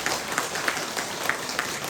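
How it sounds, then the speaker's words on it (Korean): A church congregation at a Saturday prayer meeting claps together, a steady, moderately faint patter of many hands with a few louder accents, with no voices over it. "우리 박수 한번 쳐야 되겠죠?"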